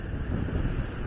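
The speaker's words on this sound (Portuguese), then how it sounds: "tá ventando muito" Strong headwind buffeting the microphone on a moving motorcycle, a steady low roaring rush that stays loud and unbroken throughout with no voices.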